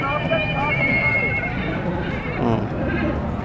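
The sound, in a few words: white horse at a market, neighing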